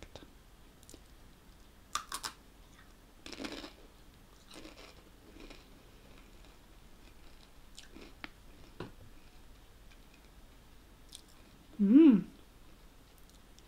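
Takis rolled tortilla chips being bitten and chewed close to the mic, with sparse crunchy bites and clicks spread over quiet stretches, plus a short hummed sound of approval near the end.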